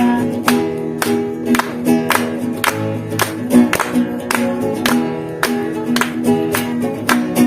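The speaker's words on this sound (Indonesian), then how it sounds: "Semua yang di rumah kita tepuk tangan." Rhythmic hand claps keep a steady beat alongside a cheerful children's song with instrumental accompaniment at a Saturday church gathering for kids in Medan, the clapping repeating evenly throughout.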